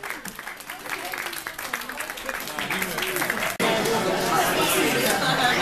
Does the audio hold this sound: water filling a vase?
no